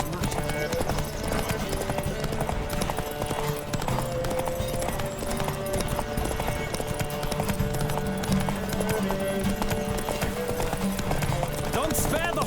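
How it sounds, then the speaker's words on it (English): Horse hooves clip-clopping at a gallop in The Witcher 3: Wild Hunt, a steady rhythmic pounding mixed with game music and ambience, with speech over it throughout. "Don't spare the horse!"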